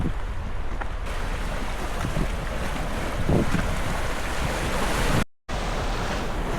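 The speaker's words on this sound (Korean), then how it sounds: "파도가 살짝 있네요" Ocean waves wash steadily with a broad, rushing roar, mixed with wind buffeting the microphone; a brief dropout interrupts near the end.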